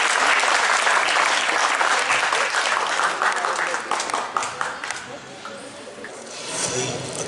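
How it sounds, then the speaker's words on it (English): Enthusiastic audience applause for a dancer at a residential-colony Republic Day celebration, a dense roar of clapping that starts loud and gradually thins and fades over several seconds. "Please give her a big clap,"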